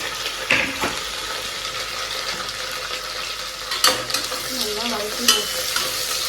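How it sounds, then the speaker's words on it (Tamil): Onions, curry leaves and green chilies fry in oil in a pan for a country chicken curry, a continuous sizzle broken by sharp scraping stirs and clinks of a spoon against the pan, with no talking. "வெங்காயம் வெங்காயம் கருவேப்பிலை பச்சை மிளகாய் சேர்த்து"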